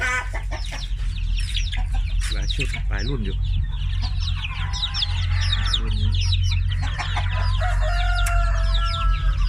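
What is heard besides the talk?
chickens clucking and crowing on a farm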